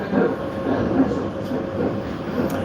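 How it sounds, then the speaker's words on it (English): A Sydney light-rail tram running on rails between Dulwich Hill and the city gives off a steady, close rumble and wheel noise throughout, with a faint voice now and then. "See, another tram."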